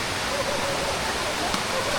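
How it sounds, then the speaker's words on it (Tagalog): Agimit Falls in Samal pours in a steady, dense roar of rushing water, close and unbroken throughout. "Agimit Falls."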